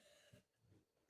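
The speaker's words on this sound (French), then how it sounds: "je fais que de tousser" A single short, loud cough bursts out at the very end, after nearly a second of near silence.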